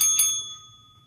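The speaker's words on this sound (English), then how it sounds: "Ringing the bell for a smile here, okay?" A bright bell is struck twice in quick succession. Its clear metallic ring fades out over about a second.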